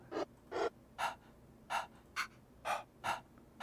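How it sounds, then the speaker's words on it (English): Breath vocal sample played from a built-in sampler instrument in Ableton Live: eight short, airy breath bursts, sharp inhales and exhales repeating in a steady rhythm, close and clear with no talking. "What is breath? Is it just somebody breathing?"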